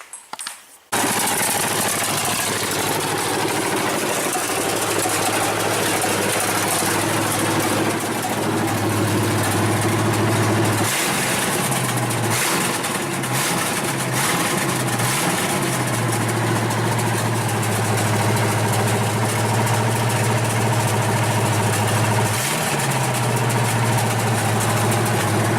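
The V8 in an S10 prerunner truck, its block cracked and welded, idles loud and close. The low, steady rumble wavers slightly and briefly dips a few times as the revs change, and no one speaks.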